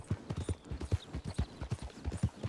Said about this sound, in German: Ich reite mal eben bei euch einmal vorbei